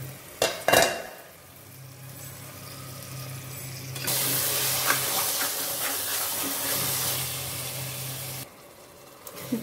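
Tomato masala for vegetable biryani cooks in a pan, a soft bubbling sizzle that swells into a louder, steadier hiss for several seconds before dropping back, with a few sharp knocks near the start and no voices.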